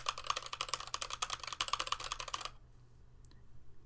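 Rapid mechanical keyboard typing, crisp and clacky, in a dense burst that stops abruptly, followed by near silence with a faint click.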